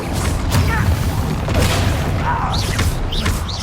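A Confringo fire spell explodes in Hogwarts Legacy, a loud, dense, rumbling burst filling the whole moment with crashing and booming noise, while a voice speaks briefly over the tail.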